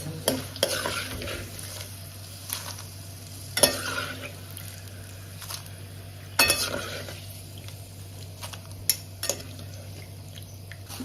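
Banana chips deep-frying in hot oil in a home kitchen give a steady bubbling sizzle, broken by occasional scraping stirs and metal clinks from a ladle against the pot.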